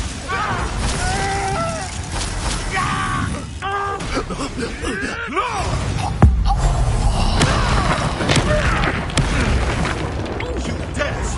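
Booming fire blast explosions from the Confringo spell in the Hogwarts Legacy video game, repeated thuds and bursts layered over busy combat noise and voices throughout.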